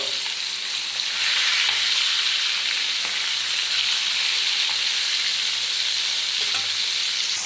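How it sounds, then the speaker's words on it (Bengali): Flipped hilsa fish pieces keep frying in oil: a strong, even, close-up sizzle and crackle that runs unbroken for several seconds, with no voices. "সবগুলো মাছ খুব ভালোভাবে ভেজে নিয়েছি।"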